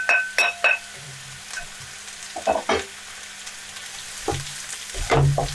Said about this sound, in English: You know it's about the right temperature because it's going to sizzle there.